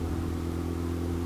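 Steady, mid-pitched idle of a 13-year-old motorcycle fitted with a full Akrapovic race exhaust system, a continuous low throbbing drone held at even level with no talk.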